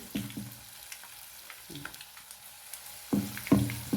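Small pinched pieces of beef and jackfruit pakoda batter dropped into hot oil, crackling and bubbling in a few separate bursts that get louder toward the end, close and moderately quiet.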